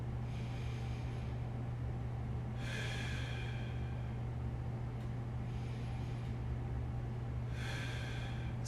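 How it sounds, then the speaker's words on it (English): Deep belly breaths taken while lying on a foam roller, slow and evenly spaced, with two clear airy breaths heard close up over a steady low hum. "we're just going to take nice deep belly breaths"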